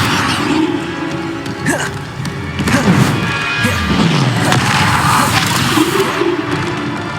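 Spells Depulso and Bombarda cast in Hogwarts Legacy combat: dense whooshes, blasts and crashing impacts in quick succession, loud and continuous over game effects.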